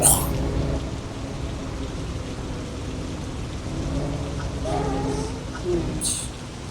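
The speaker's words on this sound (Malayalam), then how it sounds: "ഓക്കെ, നല്ല മഴയായിട്ടാണ് ഗൈസ്" Steady rain noise with a low truck engine rumble underneath in a truck driving video game, continuous throughout, with a few brief faint chirps near the end.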